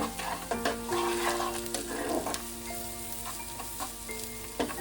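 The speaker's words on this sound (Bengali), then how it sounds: "আর লবণ পরিমাণ মতো দিয়ে আমি আবার একটু কষিয়ে নেব।" A chicken mixture seasoned with salt fries and is stirred in a pan for a Bengali stuffed chicken paratha, giving a steady close sizzle with scraping stirs under a continuous bed of background music.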